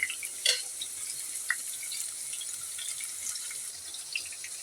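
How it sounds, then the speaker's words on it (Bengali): Sliced onions frying in oil in a kadai, a soft continuous crackle and hiss heard at a distance with a few sharper pops and clinks scattered through. "আমার পেঁয়াজগুলো একটু ভাজা ভাজা হোক"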